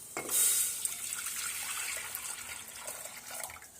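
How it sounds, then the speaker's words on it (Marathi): Heated water pouring from a vessel into a pressure cooker set on a gas stove in a home kitchen, a steady splashing stream that starts strong and then settles into a lighter, continuous trickle with no talking. "गॅसवर मी कुकर ठेवल्या आहे त्यात हे गरम केलेले पाणी घालून घेते"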